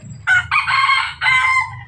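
Backyard pet rooster crows once up close, a loud, drawn-out call in several segments rising and holding before it breaks off, over a low steady hum.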